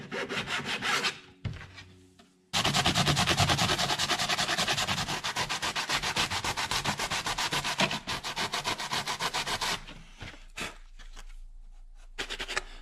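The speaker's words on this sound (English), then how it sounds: "So I'm using a sanding block." Sanding block rubbed steadily along a Kydex frame guard edge, a close, loud, continuous scratchy rasp of rapid strokes lasting several seconds, with quieter bursts before and after.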